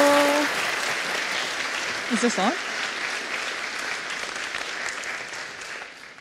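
Audience applause fills a conference hall for a speaker at the View Source 2018 web event, a steady broadband clapping throughout, with a brief voice checking the microphone partway through.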